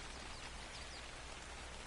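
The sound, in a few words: rain in Ark: Survival Evolved video game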